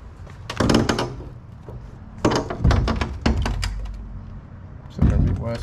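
An old fuel tank from a Ford XW handled in a garage, several hollow metallic thunks and knocks as it is moved and set down, with someone talking between the bumps.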